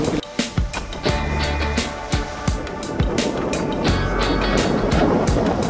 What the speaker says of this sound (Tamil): இன்றைக்கு வந்து கடும் மோசமான முறையில் காற்று மழையும் இருக்குது.